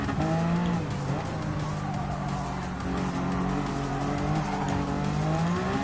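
A race car in Gran Turismo 7 driving a Gr.1 prototype around Fuji International Speedway, its engine drone loud and continuous throughout with shifting pitch and tire noise.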